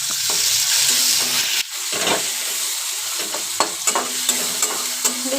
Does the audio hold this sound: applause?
no